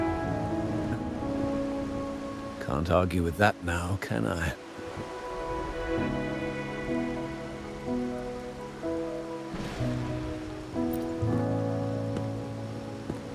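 Steady rainfall in the Wuthering Waves video game, a soft continuous patter running underneath voices talking and tonal background music throughout.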